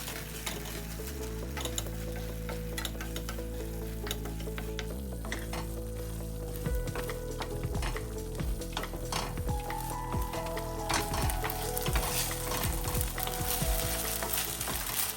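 Ladoo mixture of halim seeds and desiccated coconut sizzles steadily in a pan while a spoon stirs and scrapes through it, a continuous close frying hiss with rhythmic scraping strokes and no voices.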